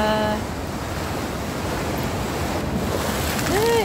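Sea waves surge and wash against a rock formation at Biri, Northern Samar, a steady close roar of surf mixed with heavy wind buffeting the microphone and no clear speech.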